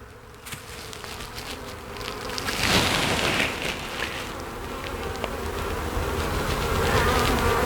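A dense, steady buzzing of many honeybees in an autumn hive fills the clip, close and continuous, swelling slightly louder toward the end with no voices.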